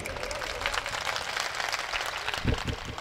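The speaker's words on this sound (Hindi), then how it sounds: "इनके लिए ताली बजा दो यार।" Audience applause at a mushaira poetry recital in Gonda district, a brief burst of scattered clapping from the gathered listeners, fairly soft and diffuse with a slightly stronger flurry near the end.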